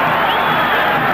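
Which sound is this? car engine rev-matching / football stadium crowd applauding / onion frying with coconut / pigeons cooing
football stadium crowd applauding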